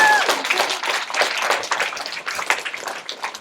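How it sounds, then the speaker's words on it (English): A room of people applauds together after a question-and-answer session, a dense, steady wash of clapping that carries on for several seconds without much rise or fall. "a round of applause"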